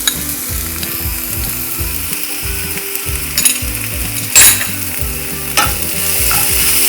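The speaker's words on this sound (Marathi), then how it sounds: "आलं लसूणचा कच्चा वास जाऊपर्यंत हे परतायचं आहे।" Ginger-garlic masala sautés in a pan with turmeric for an Indian-style egg shakshuka, a steady sizzle broken by rhythmic scraping and stirring strokes of a spoon, with a few louder clanks near the end.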